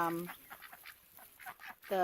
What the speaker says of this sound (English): And then there's ducks in here too.